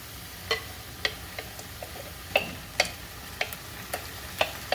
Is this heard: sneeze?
no